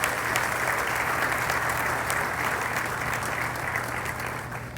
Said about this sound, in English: Can we get another round of applause for all of our speakers?